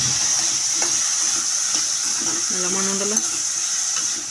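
Bitter gourd thoran with curry leaves and crushed garlic fries in a pan with a constant close hiss and sizzle, while a spoon scrapes and stirs it and someone speaks briefly.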